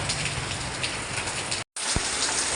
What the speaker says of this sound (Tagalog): Ayan guys, ang lakas ng ulan.